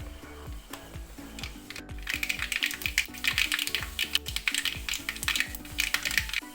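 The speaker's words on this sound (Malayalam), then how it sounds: "കടുക് പൊട്ടി വന്നിട്ടുണ്ട്" A teaspoon of mustard seeds pops and splutters in hot oil, a dense, irregular crackle of quick sharp snaps that grows busier as it goes.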